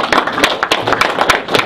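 At a Belize Progressive Party campaign launch in Punta Gorda, a crowd claps in a close, loud burst of sharp, uneven hand claps that come in quick succession, several individual slaps standing out.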